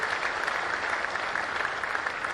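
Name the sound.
audience applause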